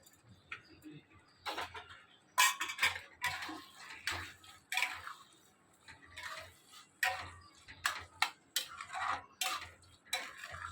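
A spoon scrapes and clinks against a pan as garam masala and kasuri methi are stirred into paneer bhurji, producing irregular metallic taps and rattles in quick clusters with quiet gaps between them.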